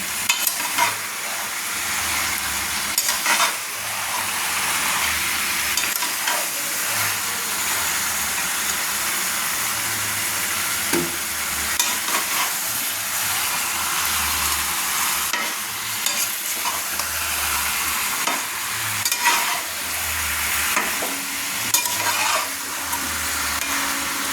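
Mutton and potatoes stirred in a hot pan for a mutton kosha, a steady sizzle with repeated scraping strokes of the spoon running throughout, close and fairly loud, with no talking.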